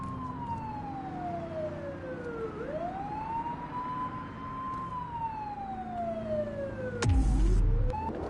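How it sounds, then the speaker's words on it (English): A police car siren in The Precinct wails in a long rising and falling sweep, loud and steady, then cuts out abruptly, followed by a short burst of louder noise. "Turn that siren off."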